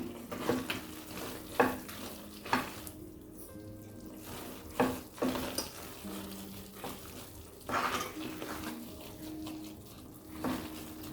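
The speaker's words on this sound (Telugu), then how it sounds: "ఒక 10 మినిట్స్ గరిటెలా తిప్పుతూనే ఉండాలి" A ladle stirs thick Mysore pak mixture in a pan in a home kitchen, giving repeated scraping strokes with a soft bubbling sizzle at a steady, unhurried rhythm, close by, with no talking.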